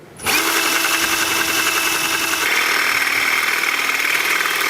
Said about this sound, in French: je suis amené à percer le seuil pour laisser passer le verrou. Et je perce avec des forets de plus en plus gros